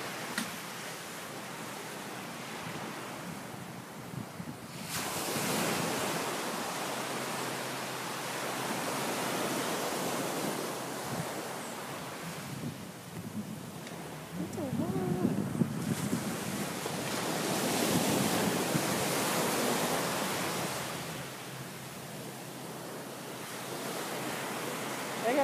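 Ocean waves wash onto a sandy beach in Puerto Rico, a steady surf roar with broad swells building and receding, mixed with gusty wind buffeting the microphone; no voices.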